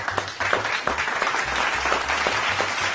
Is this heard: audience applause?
yes